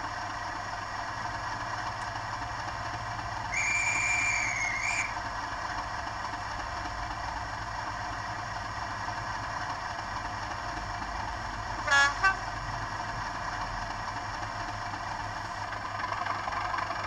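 A Bachmann Class 37 model diesel locomotive in Europhoenix livery sounds one steady two-tone horn blast of about a second and a half as it departs, over a constant idling engine drone. A brief tonal blip follows later.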